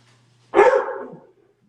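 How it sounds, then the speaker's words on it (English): A dog lets out a single sharp bark at home, close and loud, with nothing before or after it. "That's the dog."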